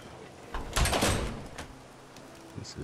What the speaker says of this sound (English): All my settlers are leaving the doors open.